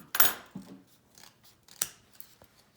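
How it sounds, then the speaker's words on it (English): Scissors trimming paper book pages at a craft table: a few sharp, close snips, quiet in between, with one strong cut near the start and another near the end. "It's good to have a good pair of scissors for this too, huh? Yep. Since you have to do so much trimming."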